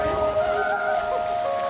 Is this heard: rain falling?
yes